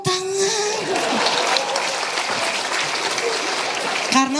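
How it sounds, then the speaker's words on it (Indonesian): Audience applause at a farewell event attended by Indonesia's vice president and his wife, a dense steady burst of clapping lasting several seconds, with voices faintly audible at the start and end. "Tepuk tangan."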